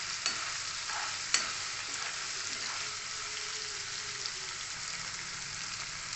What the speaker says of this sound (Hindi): इसको हम अच्छा से तलेंगे, इसको गोल्डन ब्राउन करेंगे पनीर को।